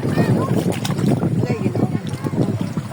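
A boat moves across water with rumbling engine and splashing noise, wind buffeting the microphone, and voices speaking over it.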